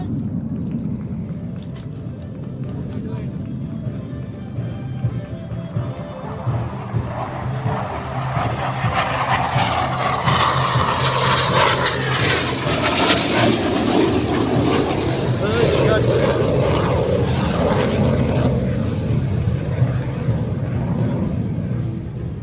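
A Hawk Mk 132 jet trainer flies past inverted during an air force graduation parade. The jet roar swells to a long, loud rushing peak, then stays broad and steady as it passes.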